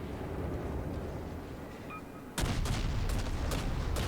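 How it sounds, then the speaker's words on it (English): Rapid naval gunfire from the cruiser Kolberg in World of Warships: after a low rumbling lull, a burst of repeated sharp cannon blasts hits in close succession at moderate loudness. "The guns on it just, it seems like they rapid fire. They never stop firing."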